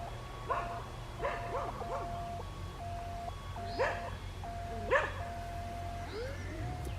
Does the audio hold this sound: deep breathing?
no